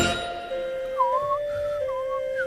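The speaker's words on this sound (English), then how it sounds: "With the train whistle in the background" A train whistle sounds faintly in the distance as a steady, sustained tone with a few wavering notes on top, heard outdoors near a home with no talking.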